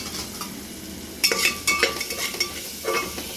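Close stirring of a chicken stew base in a pot over a gentle frying sizzle, with a few scraping strokes of a spoon and light metallic clinks.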